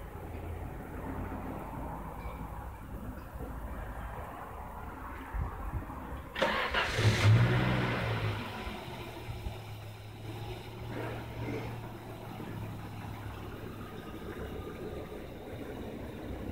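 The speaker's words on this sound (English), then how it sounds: "I'm going to run the engine now." A Volvo car engine cranks and catches with a loud burst, then settles into a steady, low idle that runs on alone at close range.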